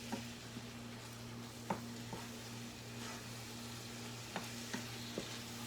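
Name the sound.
food cooking in a pan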